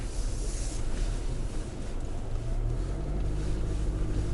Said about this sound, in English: Now watch the mud we're going into.